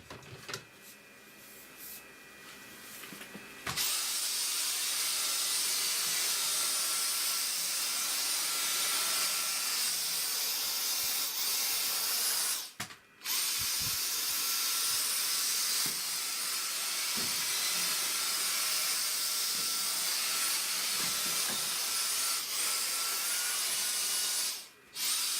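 Vacuum cleaner running with a loud, steady high-pitched whine and airy rush that starts abruptly, drops out briefly midway, then resumes and holds until near the end.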